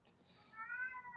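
A single soft, drawn-out cat meow, faint and somewhat distant, rising and holding briefly in a quiet room.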